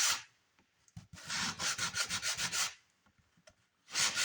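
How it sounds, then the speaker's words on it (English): Sandpaper rubs over the painted backs of scrap wood pieces, a close run of quick rhythmic back-and-forth strokes broken by short pauses, with another burst of sanding at the end. "Everything dried, I give the backs a quick sand down, breaking the paint free from the wax"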